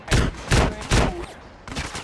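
Gunshots from the video game GTA San Andreas, three loud, close blasts spaced about half a second apart, followed by a softer fourth burst after a brief lull.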